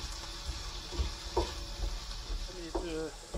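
Chopped onion frying in plenty of oil for a curry casserole, a steady broadband sizzle with a few soft stirring knocks and brief voice-like tones, close and moderately quiet.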